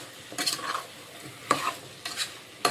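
Chili powder is stirred into a pumpkin curry in a pan, several short scraping strokes of a spoon coming in bursts over a soft background sizzle.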